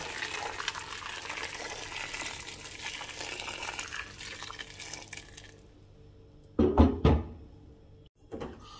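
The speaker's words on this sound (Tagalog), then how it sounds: "So, magdagdag lang ako ng mainit na tubig para mabilisan." Hot water poured into a pot of boiling meat, a continuous gushing splash that runs for several seconds, then cuts off, followed by a couple of short heavier pours and clunks near the end.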